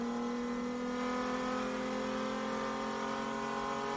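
A racing car engine rated to nearly 8,000 rpm drones steadily at high revs on a hill-climb course, a loud, continuous mechanical tone held without a break and with no voices.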